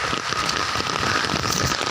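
Steady rain falls in a dense, even hiss of drops on surfaces, close and continuous with no voices over it.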